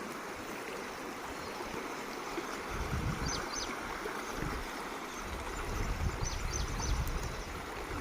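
Water of the Girna river running high after its dam filled to capacity, a steady broadband rush near a bridge, continuous and moderately loud with low rumbling swells and no voices.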